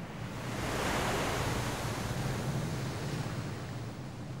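Broad, steady wash of ocean water breaking at the bow of a moving ship, a continuous rushing surf with some wind noise, fairly loud and close, with no voices.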